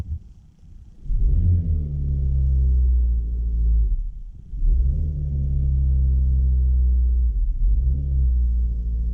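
A 2020 Kia Niro Noblesse Special hybrid's engine is forced to start and then revs, giving a loud steady low rumble that rises and dips in three sustained surges with brief drops between them, close by and with no talking.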